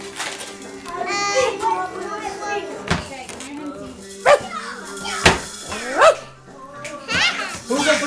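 A dog barks a few times in short, sharp bursts amid children's chatter and household clatter close by.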